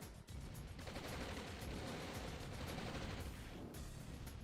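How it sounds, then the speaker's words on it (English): Aircraft strafing run in Command & Conquer Remastered, a dense, continuous barrage of rapid gunfire that stays loud and unbroken for several seconds, with no talk over it. "Here comes a strafe"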